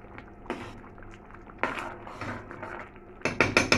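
A spoon scrapes and knocks against a metal cooking pot of fava beans in tomato sauce in irregular bursts, clattering louder toward the end, with a faint simmer underneath.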